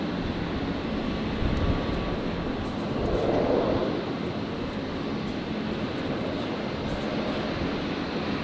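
A Qantas jet on its takeoff roll at an airport produces a steady, fairly loud engine roar with a brief swell partway through, continuous and unbroken, with no one talking.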